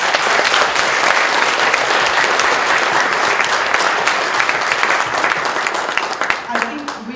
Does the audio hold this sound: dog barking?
no